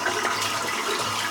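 A shaving brush is rinsed under steadily running tap water, giving a continuous close splashing hiss with no break.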